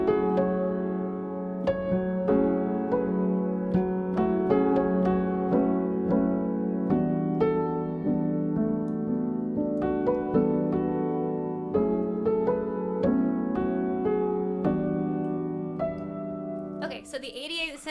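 Microtonal chords in a 19-prime just tuning play in a steady sequence of changing harmonies, the sustained synthesized voicings shifting every second or so, clear and alone until a brief noisy burst at the end.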